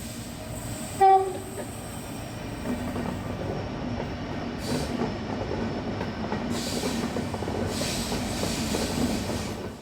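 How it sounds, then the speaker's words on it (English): A freight train rolls past, its horn giving one loud, short toot near the start before the steady rumble and clatter of the wagons carry on to the end. "since a freight train was coming, I thought, well, may as well take a video of it"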